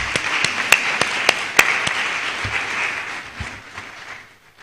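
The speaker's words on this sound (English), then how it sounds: "Please, another round of applause for her." Audience applause following an annual humanities lecture: a few sharp, close claps ride over a steady patter of clapping that fades away over several seconds.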